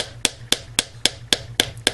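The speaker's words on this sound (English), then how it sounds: "we're just going to go ahead and use our hammer and hammer all along the length" A hammer striking wire for a hammered bangle bracelet on an anvil or bench block, seven sharp, evenly spaced metallic blows close by with a steady rhythm.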